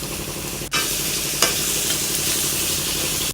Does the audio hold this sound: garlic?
yes